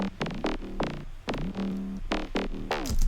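A deep synth bass line pulses in short repeated notes with gliding pitch, a rhythmic throbbing pattern played alone.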